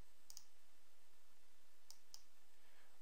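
A left shift key on a computer keyboard is pressed, giving a few crisp, faint clicks in quick pairs, one pair early and two more later, alone in a quiet room.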